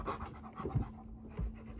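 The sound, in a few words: dog panting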